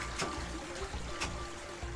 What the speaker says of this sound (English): Add water to this cone and turn the stir on.